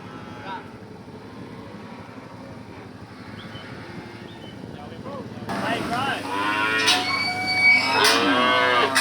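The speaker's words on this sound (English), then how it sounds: "So we're just going to let out Nolan's pocket with cattle" Cattle low repeatedly in a paddock, nearby moos layered over one another, with a louder, busier burst of bellowing in the second half amid outdoor background noise.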